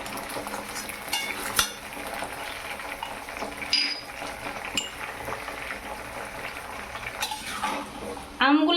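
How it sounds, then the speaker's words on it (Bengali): Raw mango pieces are gently stirred in a pan of hot oil with bubbling sugar, a continuous close sizzle and fry punctuated by scraping spatula strokes and occasional clinks against the pan. "এইভাবে আস্তে আস্তে করে নেড়ে নেব"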